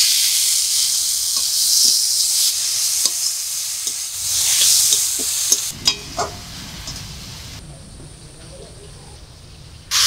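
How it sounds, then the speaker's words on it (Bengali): Boiled taro stolons tipped into hot spiced oil with turmeric, chilli powder and salt, raising a loud, bright hiss of frying that later settles into quieter sizzling, with a few knocks of the spatula. "এবার সেদ্ধ করে রাখা কচুরলতিটা দিয়ে দেব"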